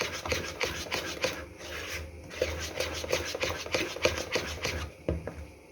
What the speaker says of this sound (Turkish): aslında mikserle karışması gerekiyor ama benim mikserim bozulduğu için elimle çekiyorum.